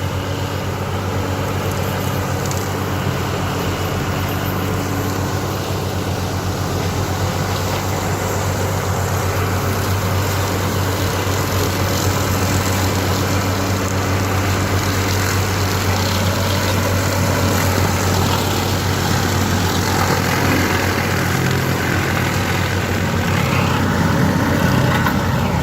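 A tractor with a mower attachment runs continuously while cutting down trees, a steady low engine drone with a broad mechanical hum, moderately distant and unchanging, with no talking.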